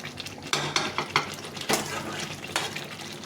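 Chicken meat browning in its own fat in a pan with no water added, a utensil scraping and clinking against the metal in irregular strokes over a soft, low sizzle, close and moderately loud.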